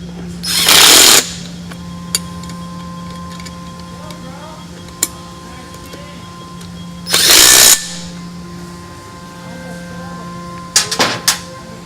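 A power tool drives nylock nuts and bolts tight on an unpowered Verrado trike build, giving three loud close bursts of whirring with quiet gaps and a few faint ticks between them.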